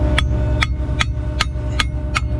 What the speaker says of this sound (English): Hammer guy. Tap the inside.